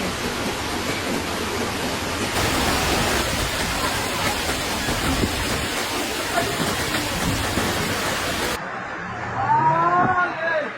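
Floodwater from an overflowing river rushing loudly in a broad, constant roar during a night flood in Tapanuli, close and unbroken, then cutting out near the end to quieter ambience with faint calls.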